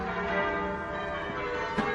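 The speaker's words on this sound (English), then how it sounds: "the church bells. Can you hear them?" Church bells ring in a steady, sustained peal, their overlapping tones filling the whole stretch at moderate loudness.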